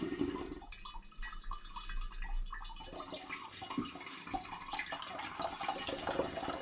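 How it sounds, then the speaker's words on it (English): Homemade mango and ginger cider is poured through a filter into a glass demijohn, a close, trickling and splashing stream of liquid that runs steadily throughout. "pouring it through until the demijohn is filled up"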